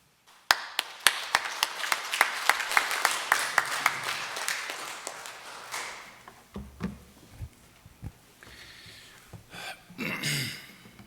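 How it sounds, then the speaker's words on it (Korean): A church congregation at a Sunday service claps together in a steady, evenly spaced rhythm to welcome the pastor. The claps fade out after about five seconds, leaving scattered quiet rustles and small sounds in the room. "나오실 때 우리 박수로 환영하겠습니다."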